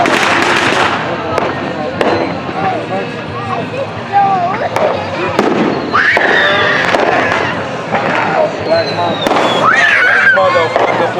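Fireworks go off repeatedly in a suburban neighbourhood: dense crackling, popping bursts and whistling rockets, loud and continuous, with people talking and shouting throughout.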